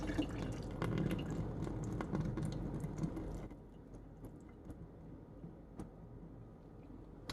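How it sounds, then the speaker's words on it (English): Vinegar poured out of a cup holding an egg gives a soft, quiet splashing trickle for a few seconds, then fades to scattered faint drips, with no speech. "We're going to dump the vinegar out of our cup"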